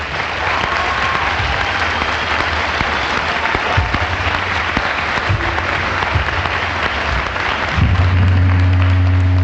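Sustained audience applause for school staff at a 2014 alternative program graduation ceremony, a steady dense wash of clapping throughout, with a low hum rising near the end.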